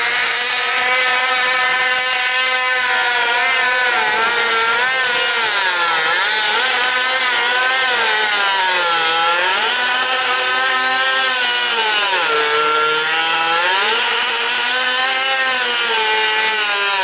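A modified micro mini race car for kids, fitted with a snowmobile clutch, howls loudly and continuously at a dirt track race night, its engine pitch sweeping up and down as it accelerates and slows through the laps.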